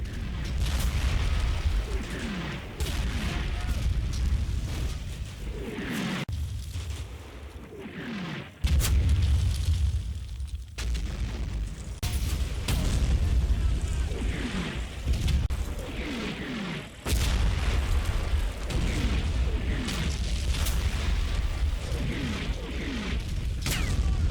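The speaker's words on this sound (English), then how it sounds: "At the winery, my opponent launches his own barrage" Artillery barrage explosions from the video game Combat Mission Fortress Italy, falling around a winery: dense, continuous booms and rumbling blasts that overlap with no pauses for about twenty seconds, loud throughout with a brief dip partway through.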